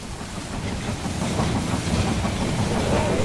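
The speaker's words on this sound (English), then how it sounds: "Well, it looks like the train doesn't kill your units." A train rolls past in the strategy game They Are Billions, a loud continuous rumbling clatter with hissing that swells and holds steady for a few seconds.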